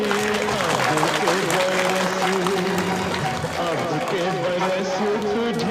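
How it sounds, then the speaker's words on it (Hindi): An audience at a school Republic Day celebration in a village claps continuously while an amplified voice speaks over the applause. "इसके लिए जोर से तालियां बजाएं।"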